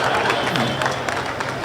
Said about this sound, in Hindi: एक बार इनके सम्मान में जोरदार ताली बजाओ।